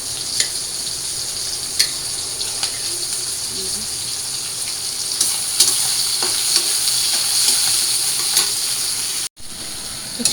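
Small shrimp stirred and sautéed with spices in a pan, a steady close frying sizzle with scraping stirs throughout, ending in a brief dropout.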